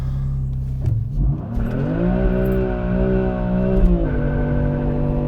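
2020 BMW M4 Competition in Sport Plus mode launching in snow with traction control off, engine roaring loudly close by as revs climb steeply, hold, then drop slightly.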